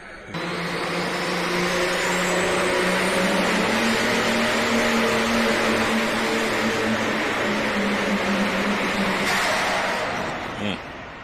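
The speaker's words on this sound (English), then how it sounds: "Sounded like it was over revving the whole time, didn't it?" A semi truck engine over-revs at a steady high pitch during an indoor truck pull in Freedom Hall, a loud sustained roar under faint announcer talk that cuts off abruptly near the end.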